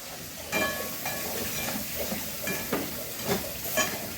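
Turmeric, chili and coriander powder fry in hot oil for a Bengali prawn malai curry, giving a steady sizzling hiss broken by several soft scraping stirs, close and fairly quiet with no talking.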